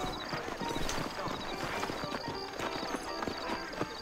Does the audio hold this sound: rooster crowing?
no